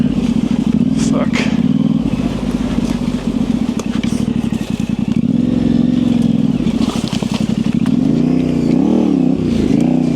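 A Tenere 700 adventure motorcycle's engine drones loud and steady, close by on a Michigan single-track trail, with voices over the running engine.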